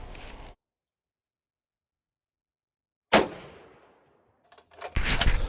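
A rifle fired from a kneeling position gives a single loud, sharp shot with a decaying echo after silence, followed by a further burst of noise at the end.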